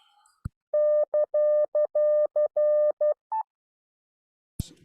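Morse code sent on a key at about 12 words per minute, a clear single tone beeping in a run of long and short elements, with a click before and after.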